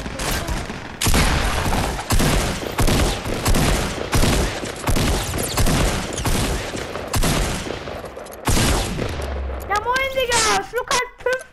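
Gunfire in a shooter video game plays as dense, loud bursts of rapid shots for about eight seconds, then fades into scattered pops and whistling electronic tones.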